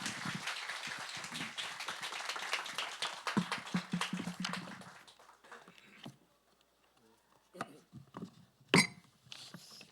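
A church congregation at a Sunday worship service applauds to welcome the pastor, a burst of clapping that lasts about five seconds and then fades to scattered taps and quiet.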